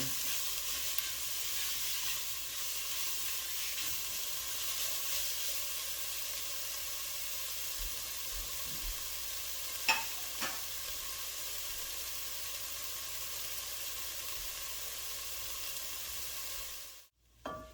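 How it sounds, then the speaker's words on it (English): Onions sweat in a pot on medium heat for hot chili, giving a steady, gentle sizzling hiss close by with a couple of brief stirring knocks, and no talking until it cuts off near the end. "So I just sweat these off on medium heat"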